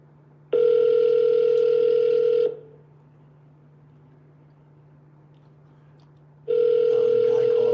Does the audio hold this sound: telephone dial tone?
yes